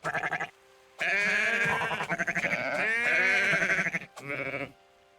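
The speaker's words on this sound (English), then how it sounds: "Let's get some goats over here because why not?" Goats bleating in the WorldBox sandbox game, several loud, close, wavering bleats in quick succession with short pauses between them, no talking.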